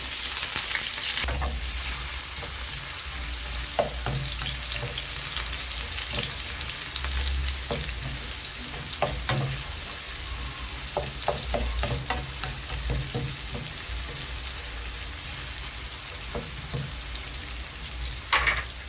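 Onion frying in a pan while being stirred, a continuous close sizzle with scattered crackles and occasional scraping knocks, steady throughout.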